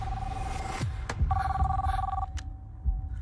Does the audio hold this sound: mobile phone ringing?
yes